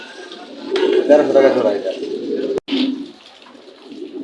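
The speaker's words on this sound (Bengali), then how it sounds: "এখানে 6টা কবুতর আছে নর" Racing pigeons cooing at close range, soft throaty coos repeating over a few seconds while someone talks over them.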